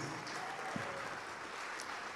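Steady applause from a church congregation, a dense wash of clapping that holds at an even level throughout.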